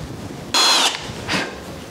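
A power drill with a brand-new bit bores into a cherry RTA bathroom vanity cabinet in two short bursts, a longer whine then a briefer one, close and loud with no talk.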